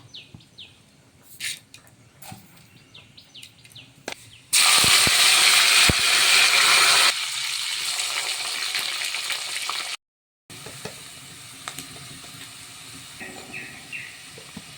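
Seeds hit hot oil with a sudden loud sizzle that settles into a steady crackling hiss, then cuts off, leaving quieter background with faint chirps.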